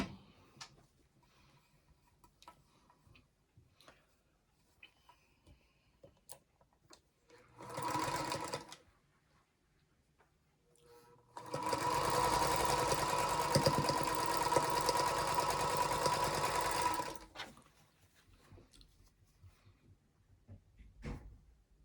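A sewing machine stitching down quilt block seams: scattered light handling clicks, a short burst of stitching, a pause, then a long, steady run of rapid mechanical stitching that ends sharply, followed by quiet taps.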